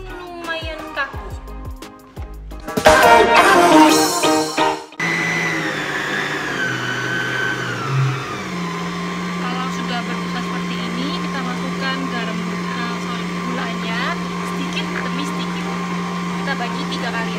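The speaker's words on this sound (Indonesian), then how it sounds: "kita membuat meringue dengan cara 3 butir putih telur kita kocok sampai jadi" An electric mixer whirs steadily as it beats three egg whites into meringue for macarons, starting after a loud burst of other noise and a brief pause, then running as a continuous drone.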